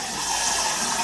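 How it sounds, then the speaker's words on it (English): Hot water pours into a pot for making homemade cheddar cheese, a steady gushing hiss of liquid filling the vessel, close and unbroken for about a second. "I've got to put some hot water in there."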